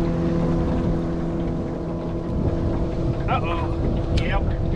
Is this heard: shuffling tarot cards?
no